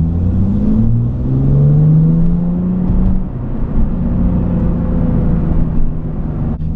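A car fitted with a new open exhaust pulls hard, its engine note rising in a steady, loud rumbling drone that climbs in pitch and then eases off, with a faint click at the end.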